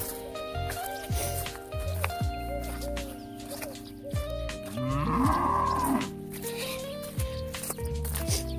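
Cattle low from a grassy pasture, one drawn-out moo rising clearly above a steady background, with a few soft wet squelching sounds around it.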